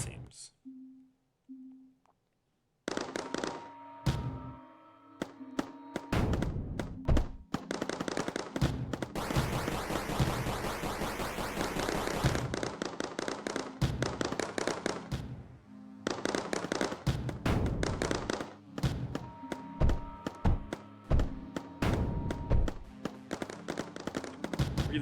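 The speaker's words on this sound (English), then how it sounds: "Those are explosives." Explosives go off in the video game Mindustry, a rapid barrage of loud, sharp blasts and crackling bursts with dense rattling volleys and brief gaps, while someone talks over parts of it.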